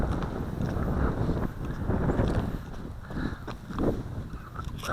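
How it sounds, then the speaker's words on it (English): Strong outdoor wind buffets the microphone in loud, uneven gusts that rise and fall as low rumbling noise, with no voices. "there was a big wind"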